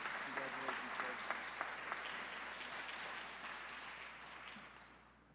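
Audience applause for a middle school winner at a student art contest award ceremony, with a voice speaking briefly over the first moments of the clapping before it settles into steady, gradually softening applause.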